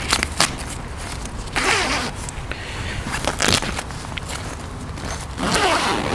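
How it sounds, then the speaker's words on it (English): Zippers on a Black Wolf Tanami 3EV tent being lifted and pulled open, several rasping zip runs in short bursts alongside rustling fabric and shuffling, close by. "lifted up the zips here"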